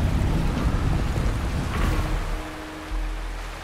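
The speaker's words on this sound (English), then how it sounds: "There's something behind the waterfall." Steady rushing water in the Wuthering Waves game, a broad continuous roar close by with no talk, fading slightly toward the end.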